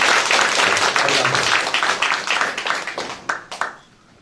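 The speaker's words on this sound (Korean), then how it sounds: "우리 다시 한번 우리 강봉수 부총장님께 큰 박수 부탁드리겠습니다" A community meeting audience at a district office gives loud applause for a vice president, a dense burst of clapping that thins into separate claps and fades out.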